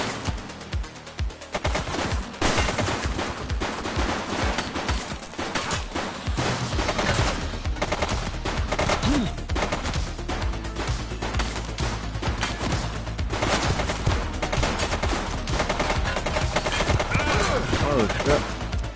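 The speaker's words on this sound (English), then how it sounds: "She's shooting!" Dense, continuous gunfire from The Precinct video game, rapid bursts and volleys layered over a busy game soundscape with music, loud and sustained throughout.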